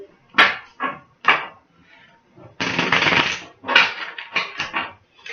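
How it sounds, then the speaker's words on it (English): Playing cards are shuffled close up in quick riffling bursts, with one longer rippling riffle in the middle and several short flicks around it. "I'm going to shuffle your cards"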